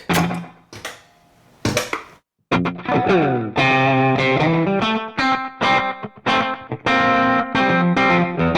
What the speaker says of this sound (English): We've got our slapback.